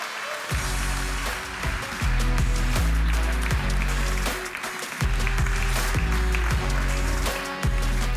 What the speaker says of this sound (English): please help me with a very big round of applause